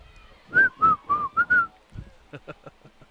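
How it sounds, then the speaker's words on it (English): A person whistles a short run of five bright notes, followed by a few softer clicks and faint sounds. "Whistling all the time?"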